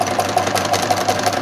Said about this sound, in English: I've set the sewing machine up for free motion stitching